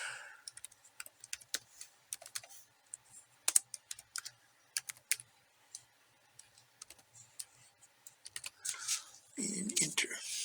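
Keys clatter on a computer keyboard as a file name is typed into a save dialog in Inkscape, a steady run of light clicks in bursts, close and fairly quiet, ending in a louder flurry.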